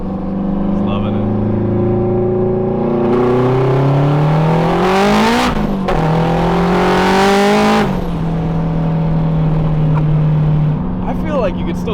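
A turbocharged K20-swapped EG Civic hatchback accelerating hard, the engine note rising through the gears with brief dips at shifts and a turbo whoosh, loud and close, with voices talking underneath.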